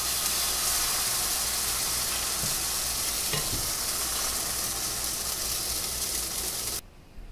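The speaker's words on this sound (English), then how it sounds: "Take a scoop of the pancake batter and just put it right into the pan." Sourdough pumpkin pecan pancake batter with chocolate chips sizzles in a cast iron pan, a steady bright hiss with a few soft scrape-like touches midway, cutting off abruptly near the end.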